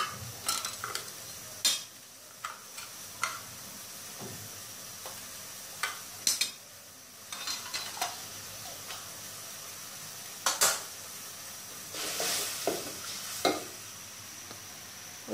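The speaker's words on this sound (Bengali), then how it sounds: "গ্যাসের চুলায় আমি এটা দিয়ে দিয়েছি মাছের জন্য যেটা এটা কষতে থাক" Garlic paste and spices sauté in a pan on a gas stove for a coral fish bhuna, a low hiss broken by repeated sharp scrapes and clinks of a spoon against the pan.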